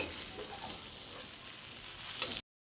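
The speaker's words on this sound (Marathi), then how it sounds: "आता हे सगळं व्यवस्थित हलवून घेऊयात सर्व मिश्रणात आपण एक जीव करून घेऊयात" Garlic okra curry being stirred in a pan, a steady soft sizzle with light scraping, close and even throughout before cutting off abruptly, no speech.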